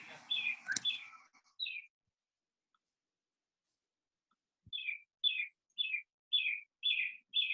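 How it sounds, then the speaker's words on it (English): Bird chirps come in a quick cluster, pause in silence, then return as a steady run of evenly spaced tweets, picked up in the background of a video call for an art reception. "I can hear the birds."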